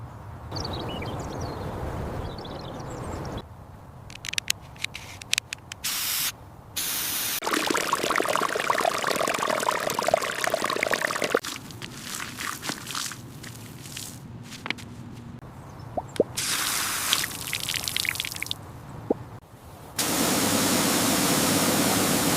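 A pressure washer sprays flood mud off a BMW 4 Series in loud, hissing bursts that start and stop, with quieter gaps between the blasts.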